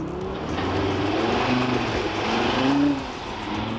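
A 4x4 vehicle driving slowly with its engine gurgling, a low, steady rumble with a slight swell in the middle of the clip and no talk over it.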